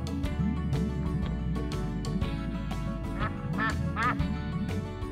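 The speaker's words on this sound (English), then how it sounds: "It's a duck." Duck quacking repeatedly in a rapid, raspy series, fairly close and clear, with a soft melodic backing throughout.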